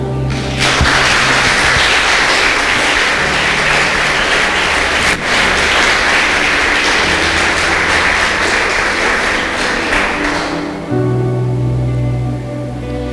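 A church congregation claps loudly together during a worship service, a dense sustained wash of applause from many hands that runs for about ten seconds before cutting off into a quieter tail.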